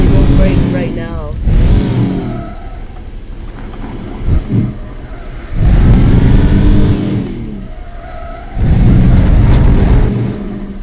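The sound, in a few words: car engine revving in the video game Teardown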